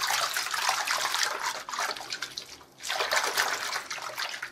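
Lukewarm water runs steadily into a basin, filled for hand-washing a hand-painted silk scarf. The close, hissing rush pauses briefly near the middle, then resumes just as strongly.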